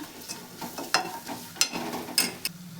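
Spoon scraping and stirring a gram flour mixture in a pan, with a few sharp clinks and scrapes over a soft continuous sizzle, close and moderately loud.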